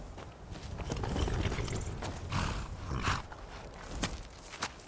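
A saddled war horse in the video game Skyrim walks with soft, uneven hoof thuds at a quiet, moderate distance.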